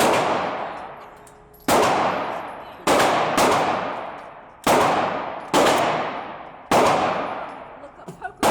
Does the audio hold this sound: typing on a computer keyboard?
no